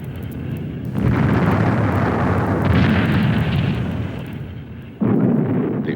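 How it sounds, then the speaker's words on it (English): Artillery shells fire and explode around the besieged Marine base at Khe Sanh, a continuous heavy roar of blasts with a sharp new burst near the end, loud and close, with no talk. "For every incoming shell, the Marines shoot several back."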